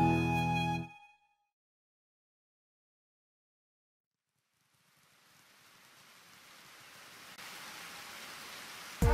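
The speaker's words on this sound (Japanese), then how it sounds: "雨か。" Rain in a visual novel fades in gradually after a short musical phrase ends, building into a steady hiss of a sudden shower that grows louder toward the end.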